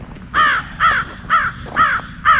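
Crows caw five times in a steady rhythm, loud harsh calls close by at a cemetery, with faint background ambience between them.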